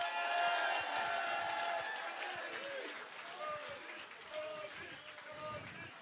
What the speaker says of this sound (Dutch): Applaus voor John de Bever!